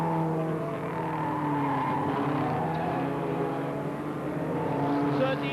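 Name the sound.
Ford Escort saloon cars racing on track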